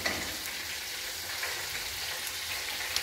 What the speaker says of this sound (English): light this stove